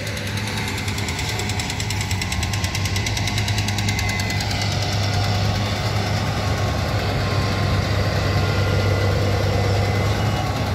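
A new John Deere sugarcane harvester cuts fresh sugarcane in a field, its engine droning loud and steady with a continuous low hum and rattling mechanical clatter throughout.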